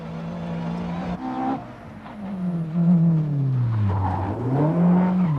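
A BMW rally car on the 1990 Circuit of Ireland Rally nears a hairpin, its loud engine revving and dropping in pitch, then climbing again as it works through the gears close by.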